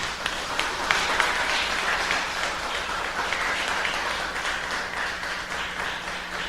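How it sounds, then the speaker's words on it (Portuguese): A church congregation applauding during a sermon, sustained clapping from many hands that holds steady throughout, full and close with a faint background hum. "Agora aplaude o Rei Jesus."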